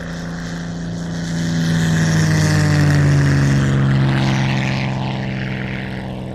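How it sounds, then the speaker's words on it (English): A Supermarine Spitfire propeller fighter takes off, its engine drone swelling to a loud peak mid-clip and then easing slightly as the aircraft passes and pulls away, with no voices over it. "but I want the Spits to take off as well"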